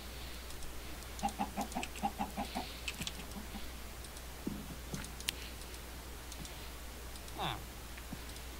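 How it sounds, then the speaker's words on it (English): Minecraft chickens cluck in short bursts of quick, evenly spaced clucks, moderately close over a faint steady hum, with a few scattered clicks and a brief higher squawk near the end. "Hello, chickens."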